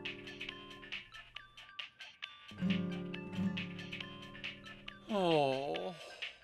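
In a children's cartoon about a cat family, tinny melodic music plays from a telephone, with sustained tones and rhythmic clicks, ending in a loud swooping sound.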